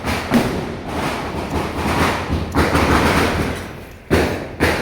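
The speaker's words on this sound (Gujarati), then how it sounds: "ફટાકડા ફોડીએ ચલો" Diwali firecrackers go off with a few heavy, booming bursts spaced seconds apart, over a noisy outdoor rumble.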